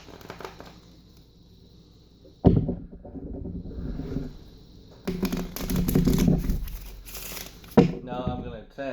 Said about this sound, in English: I'm going to shuffle them again.